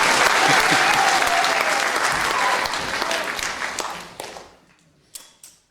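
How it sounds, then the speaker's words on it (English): An audience at a Royal Institution lecture on rainforest climbing applauds loudly, the clapping holding strong before thinning out and fading, with a few last scattered claps at the end. "Another big cheer for Tim while I sort out this stuff."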